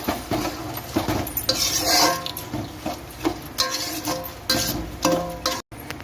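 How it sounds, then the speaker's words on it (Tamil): Squeezed lemon juice is stirred and mixed in a metal pot during communal food preparation at a Murugan temple, with repeated scraping and clinking of a spoon against the pan in uneven bursts. "அடுத்ததாக நம்ம வந்து புழிஞ்சு வச்சுருக்க எலுமிச்சை சாறு ஊற்றிக்கலாம் நல்லா மிக்ஸ் பண்ணி விட்டுக்கலாம்"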